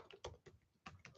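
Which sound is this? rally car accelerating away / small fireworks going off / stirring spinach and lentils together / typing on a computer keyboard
typing on a computer keyboard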